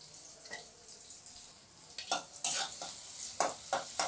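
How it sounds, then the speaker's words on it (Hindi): Onion, garlic and cumin frying in a pan for a water chestnut peel sabzi, a quiet sizzle that swells into louder bursts of hissing as it is stirred, no speech. "इसमें हम डालेंगे प्याज और लहसुन और हम डालेंगे जीरा। इन सबको हम अच्छी तरह से भून लें"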